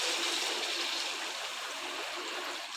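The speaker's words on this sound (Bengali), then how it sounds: "আমি এখন জল ঢেলে দেবো।" Water poured into a pot of braised, browned meat while cooking at home, a steady close splashing and trickling rush that runs unbroken and fairly loud for the whole stretch.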